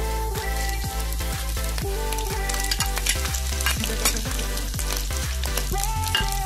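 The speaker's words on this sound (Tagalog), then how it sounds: "Mga kabayan, ilagay na natin ang ating hinimay na bawang." Minced garlic fries in a pan for a mussel dish, a loud, continuous sizzle with close crackling, under steady background music and no talk.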